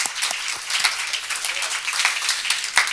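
Audience applause for the Autodesk crew at a design night talk on biomimicry, a steady wash of many hands clapping throughout, fairly close and continuous with small peaks of individual claps.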